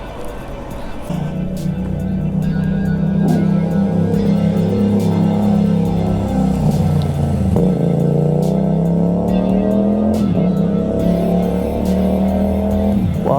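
A Kawasaki Vulcan S motorcycle roars loud and close, its engine climbing and dropping through repeated revs and gear changes while a rider talks over it.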